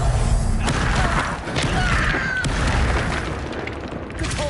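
Spell blast cast in the Hogwarts Legacy video game, a dense rumbling magical burst with crashing, shattering texture that fills the clip loudly, with no voice over it.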